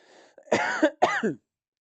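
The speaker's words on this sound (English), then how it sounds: "I'm going to cough for a second." Two hoarse coughs come in quick succession, close and fairly loud, then silence.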